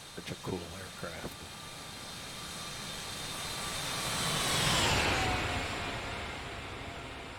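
Boeing 747 freighter landing in X-Plane 11, a broad swelling roar of jet engines that builds to a peak and slowly eases, with a falling whine sweeping down through it; brief speech-like bursts come at the start.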